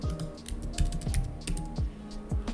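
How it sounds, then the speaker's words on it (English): Quiet typing on a computer keyboard, with soft, close keystrokes in an irregular quick rhythm and no voices. "I just typed moon and generate."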